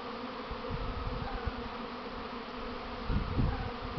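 A honey bee swarm in early spring fills the air with a dense, continuous buzzing hum, steady and close, with individual bees droning past now and then.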